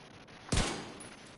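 A single sharp gunshot cracks out in The Division 2 on PS5, a loud close burst that decays quickly into a short tail over quiet game ambience.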